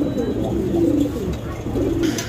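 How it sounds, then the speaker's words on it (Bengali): A pair of black Maltese pigeons coo twice, in low, throaty, rolling bursts close to the listener. Faint background noise sits under the calls. "এটা হচ্ছে মাল্টেস কবুতর একটা জোড়া, কালো মাল্টেস"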